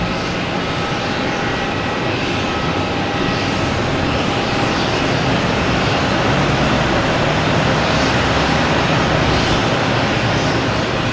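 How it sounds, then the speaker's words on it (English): An American Airlines A380 Neo airliner arriving from Phoenix at Boston Logan Airport produces a loud, continuous broadband jet roar that holds steady for eleven seconds. No one talks over it. "We have an American Airlines A380 Neo coming in from Phoenix"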